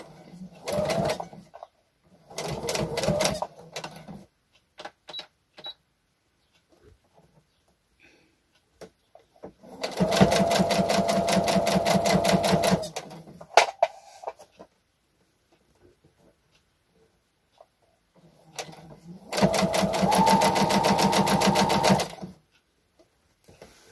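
A sewing machine stitches a baby romper for a six-month-old in several runs: short stuttering bursts at first, then two longer steady whirring passes, close and loud, with quiet gaps between them.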